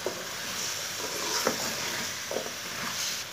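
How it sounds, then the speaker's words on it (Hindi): Potatoes and cauliflower frying in a pan over medium heat, a steady close sizzle with soft stirring scrapes and occasional light clinks running throughout. "आलू डाल के भी 3 मिनट तक भून लेंगे"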